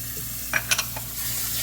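Stirring a pot of Indian prasad (sirnee) made with milk, sugar, cherries and raisins: a few brief soft scraping strokes close up over a steady low hum.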